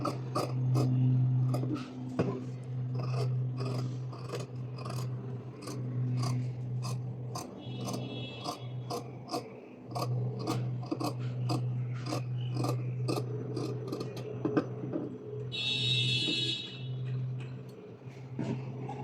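Scissors snipping through fabric to cut a neckline for a pleated maxi dress, a quiet, steady run of crisp close-up cuts in an even rhythm, with faint background hum.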